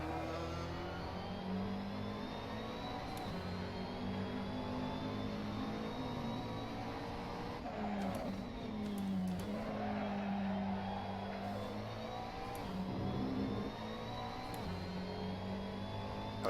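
A GT3 race car at the Sochi circuit in Assetto Corsa, its engine droning steadily with shifting pitch through corners, some gear changes and brief tire squeal, continuous and fairly loud.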